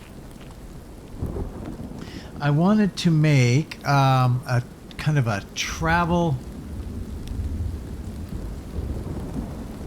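Rain hisses steadily in a survival video game with a low rumble of thunder underneath, while someone talks over the wet ambience.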